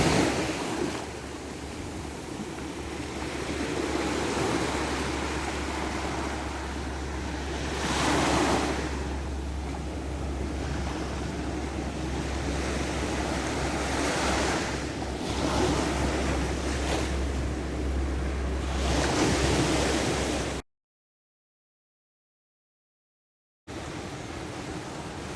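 Ocean waves wash steadily onto a beach in the Dominican Republic, a continuous surf roar with a few louder breaking swells, accompanied by wind buffeting the microphone; the sound cuts out briefly near the end.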